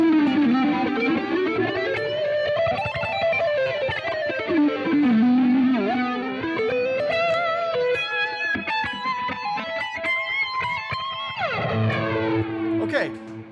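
Electric guitar played through a Fractal VP4 with a sweeping, airplane-like flanger effect, loud sustained notes gliding and swooshing over a distorted tone with echoes, the phrase ending in a sharp chord.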